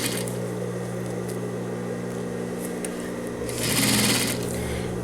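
Sewing machine stitching a zipper onto men's trousers, a steady close mechanical whir with a rapid needle chatter that rises briefly near the end, running alone.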